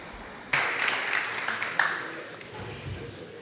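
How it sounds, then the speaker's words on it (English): Applause for a speaker at an international motorcycle road safety conference, clapping swelling suddenly after a brief quiet moment and then tapering off, with a voice faintly present under it. "A big round of applause for"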